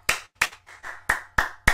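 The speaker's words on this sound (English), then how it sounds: "I just clap." Several sharp hand claps in an uneven rhythm, close and loud, from a fan reacting to a last-minute Liverpool goal against West Brom, with short silent gaps between them.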